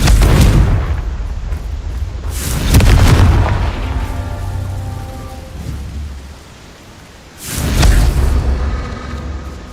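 Confringo fire spell explosions in the Hogwarts Legacy video game: heavy, loud booms with rumbling tails, two close together near the start and another near the end, with no talking.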